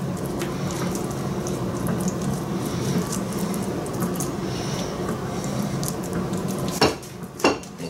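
Lamb racks flipped on a Pit Boss pellet grill: steady background hiss with light metallic clinks and scrapes of tongs on grates, then two sharp clacks near the end, no talking.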